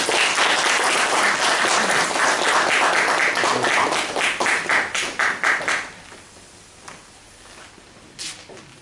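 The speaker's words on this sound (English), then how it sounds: "let's join together to have a round of applause for Joke Master, Toastmaster, Amitabh Chaturvedi" Audience applause for a toastmaster at a Toastmasters club event, a full burst of clapping that thins into separate individual claps and fades out, with a last lone clap near the end.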